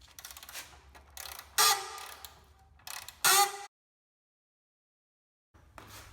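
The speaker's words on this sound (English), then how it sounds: "Now I'm going to loosen the nuts and bolts that hold on the rear shackle." Loosening rusted rear shackle nuts and bolts on a Toyota rear axle: a few close, loud ratcheting and metallic clicking bursts, then a brief silence.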